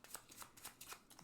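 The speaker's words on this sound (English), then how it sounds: "Give the cards a bit of a mix." Tarot cards being shuffled up close, a quiet run of soft riffling bursts in quick, uneven rhythm with no talking.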